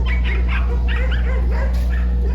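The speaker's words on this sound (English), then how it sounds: "Excuse the dogs." Several dogs bark and yip in quick, uneven bursts near a parked motorhome, over a steady low engine or generator hum.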